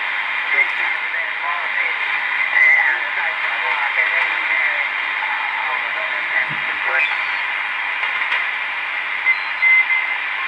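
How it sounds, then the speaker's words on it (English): Morse code CW signal on the 80 m amateur band, received on a homebrew SSB/CW superheterodyne receiver with a CW filter, as steady tones keyed through a continuous wash of atmospheric static. "A bit of Morse going on there."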